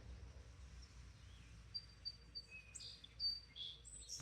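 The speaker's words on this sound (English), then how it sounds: "Somebody on here said they really enjoyed listening to the birds." Birds chirping outdoors, a red bird perched on a cord nearby: faint, scattered short tweets over a quiet low rumble, with no talking.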